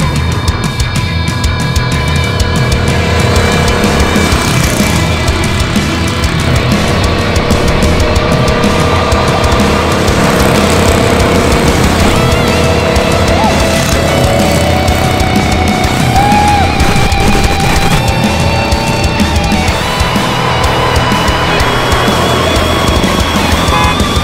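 A gas-engine mini Warthog vehicle drives, its loud engine droning and revving continuously with wavering pitch, alongside wind and road rumble.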